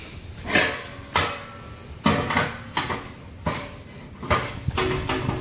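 A metal keg kettle clanks and scrapes as it is set on a turkey burner for brewing, giving a series of loud metallic knocks at an irregular pace over a steady background roar.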